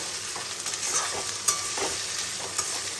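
Mixed vegetables stir-fried in a pan with whole garam masala, a close steady sizzle broken by repeated scraping strokes of a spatula, one sharper clatter in the middle, no voices.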